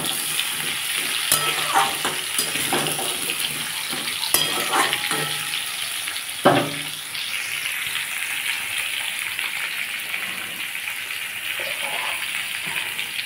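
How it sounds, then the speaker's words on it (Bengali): Potato, papaya, green banana and tomato fry in hot oil in a pan, a steady close sizzle with occasional stirring clatters and scrapes throughout. "ওই তেলের মধ্যেই আমি আলু, কাঁচকলা, পেঁপে আর টমেটো দিয়ে দিচ্ছি। এবার এটাকে ভালো করে ভাজবো।"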